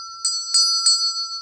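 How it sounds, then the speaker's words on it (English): Notification bell sound effect ringing three bright, evenly spaced dings over a sustained high tone, clear and close, with no speech. "to ring the notification bell for all notifications"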